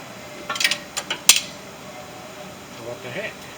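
Metallic clanks and light clinks from the 5.4 engine of a Ford F150, turned by hand with a ratchet, a few sharp irregular knocks close by followed by faint rattling.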